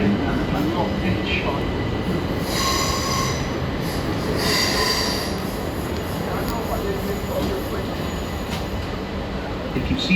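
Train wheels squeal loudly at a Clapham Junction station platform, a steady grinding rumble with high screeching bursts around the middle, while a public announcement voice speaks over it.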